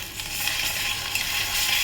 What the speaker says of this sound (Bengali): রসুনটা ভেজে নেবো ভালোভাবে, যাতে রসুনের কাঁচা গন্ধটা না থাকে।